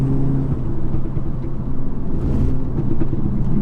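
EQT-tuned Audi S3 engine rumbling steadily on a backroad drive, a loud, continuous low drone with slight swells in intensity, heard from inside the car with no talking.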